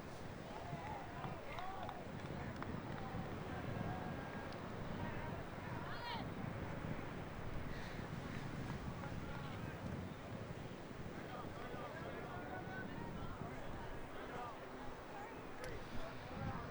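Steady wind blows across an outdoor ultimate frisbee pitch during a quarter-final match, a constant rushing buffet on the microphone that runs loud throughout with faint voices underneath.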